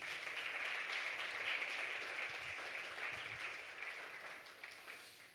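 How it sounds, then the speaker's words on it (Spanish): A church congregation applauds together as an offering of praise, a steady dense wash of clapping that holds level and then tapers slightly toward the end, with no voices over it. "Denle una ofrenda de palmas a Jesús."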